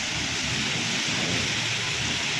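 Heavy rain pours steadily and loudly in an urban area among buildings near a bridge, a dense continuous hiss with no voices over it.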